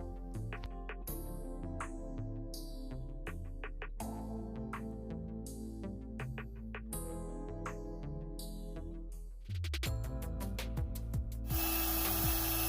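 A hand router cuts an inlay in turf, a dense run of rapid mechanical clicking and whirring chatter that holds steady, then turns harsher and noisier near the end, close by.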